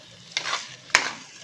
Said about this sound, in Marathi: आता हा असं छान असं आपण परतून घेऊ।